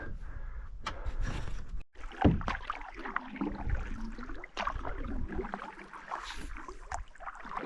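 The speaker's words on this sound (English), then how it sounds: "Just paddling around on Barlo a little bit more, checking it out before I head back." Canoe paddling on a lake during a multi-day camping trip: close, steady paddle strokes and splashing water, with a brief gap partway through and light wind on the microphone.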